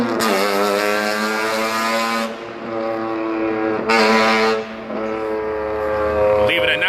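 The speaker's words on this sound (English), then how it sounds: "Believe it or not, that was a car," A car engine revving hard with a buzzy, motorcycle-like tone: two loud, sustained rev bursts with a short dip between them, close and harsh, followed by a quieter idle.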